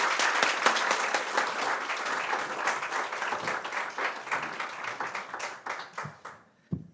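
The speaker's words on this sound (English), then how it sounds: "Please join me in giving them a huge round of applause and welcome." Audience applause at a book reading and conversation, a full, steady wash of many hands clapping that thins into scattered claps and fades near the end.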